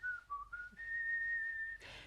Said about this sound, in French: le sifflement, j'aime beaucoup